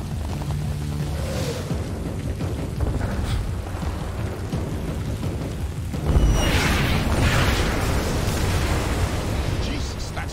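Katyusha rocket barrage in the Splinter Cell Blacklist video game: a dense, continuous roar of booming blasts and rumble that surges louder midway, with voices in the mix.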